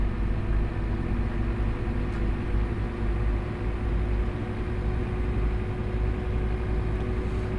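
A bus engine idles at low revs in the Euro Truck Simulator game, a steady low droning hum with constant rumble, unchanging and fairly loud for the whole stretch.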